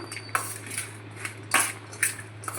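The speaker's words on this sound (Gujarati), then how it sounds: "લીંબુ પણ નાખી દીધું આવી રીતે મિક્સ કરી લેશું" Spoon clinks and scrapes against a bowl while desi chana chaat is mixed with lemon, a steady run of light metallic taps and stirring scrapes, close and fairly quiet.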